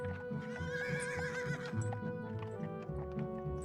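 A horse whinnies loudly up close while hooves clop steadily underneath, with a low rumbling background throughout.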